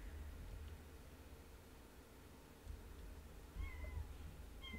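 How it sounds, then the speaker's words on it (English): A house cat meows a few times near the end, short faint calls over quiet room hiss during a computer streaming session, with low rustling beforehand. "Meow."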